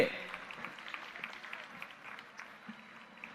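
A hall audience at the Delhi Teachers University inauguration claps as guests light the ceremonial lamp, a steady but fairly faint patter of applause with voices mixed in.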